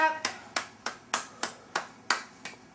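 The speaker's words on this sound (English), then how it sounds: "Clap, clap, clap." A young child at a family birthday celebration claps after the birthday song, making about nine distinct, evenly spaced hand claps that are close and crisp.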